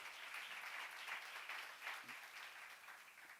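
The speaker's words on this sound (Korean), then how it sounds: "박수를 하나 주세요." A church congregation gives a round of steady applause during a sermon, a faint, even patter of many hands clapping that swells slightly and tapers off.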